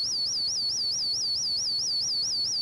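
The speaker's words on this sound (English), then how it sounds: "either the oscillator, which sounds like this," A Sonic Bloom oscillator tone played for plants: one high, pure electronic tone that warbles up and down in a regular, rapid cycle, steady and continuous throughout with nothing else beneath it.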